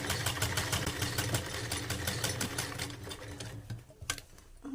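Sewing machine running steadily while stitching a straight seam joining salwar fabric to its cuff piece, a continuous close mechanical whirr with a rapid stitching rhythm that slows and pauses briefly near the end.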